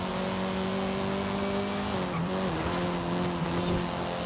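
A 2001 Acura Integra Type R races in Forza Horizon 5, its engine holding a steady high whine with pitch dips at gear changes and brief tire squeal, loud and continuous.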